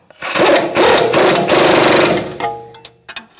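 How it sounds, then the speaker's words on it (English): A 21 mm wrench and socket, likely an impact or power tool, running down the strut-to-knuckle bolt on a 2008-2013 Nissan Rogue, a loud close rattling buzz for about two seconds, then a few metallic clinks. "now we're going to tighten our strut to knuckle. So 21 millimeter wrench and socket"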